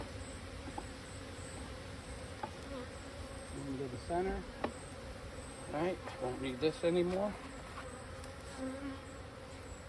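Honey bees buzz steadily around a hive during transfer of a split to a new hive, a dense droning hum close by, with a person speaking briefly over it.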